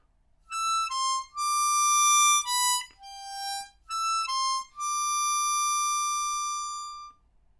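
Clear harmonica notes play a melodic line from a theme, a sequence of sustained single tones with short gaps and a long held final note, loud and close with no talking.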